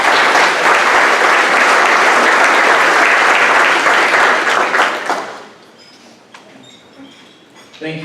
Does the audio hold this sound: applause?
yes